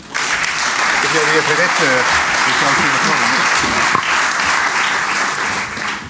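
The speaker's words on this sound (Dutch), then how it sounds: "Applaus, mensen." An audience at a live Dutch event applauds loudly and steadily for several seconds while a voice speaks briefly over the clapping near the start.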